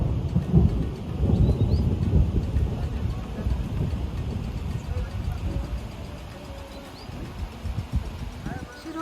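Heavy rumbling thunder rolls through a rainstorm, loudest early on and fading to a steady wash of rain, with people's voices underneath.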